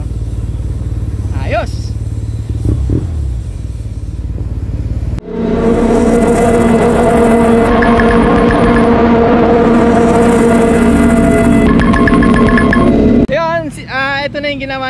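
A Yamaha TMAX scooter, freshly back from an ABS module repair, idles and revs in a workshop. A loud, steady engine drone fills most of the clip, with brief talk near the start and a short voice at the end.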